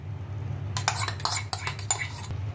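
A spoon scrapes and clinks against a pot in a few quick strokes while mixing mango sheera, over a low background hum.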